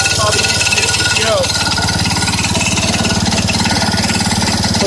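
A 1970 IH Cub Cadet 127 garden tractor engine running close by with a rapid, even putter, a brief squeak partway through.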